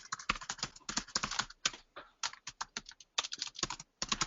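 Rapid typing on a computer keyboard during an online meeting, bursts of close, crisp key clicks in an uneven rhythm with short pauses, heard alone without voices.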